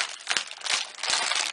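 Thin plastic bag being pulled and peeled away from a king oyster mushroom substrate block, giving a continuous close crinkling and rustling with a few sharper crackles.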